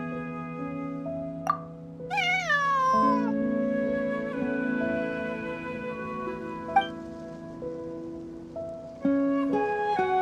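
A cat meowing in the Genshin Impact video game, several clear rising and falling meows up close over a layer of sustained soft game music.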